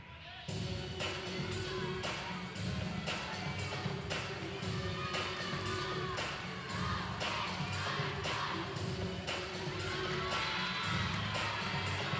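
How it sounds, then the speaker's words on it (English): Crowd noise from spectators at an Ohio State at Penn State gymnastics exhibition routine, a steady broad roar of cheering and chatter that carries through the whole stretch with scattered claps and shouts. "Crowd definitely getting into this exhibition routine."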